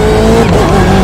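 Tires of a BMW M8 GTE race car squeal in the iRacing sim during an IMSA race at Silverstone, a brief, loud, strained whine over a droning engine.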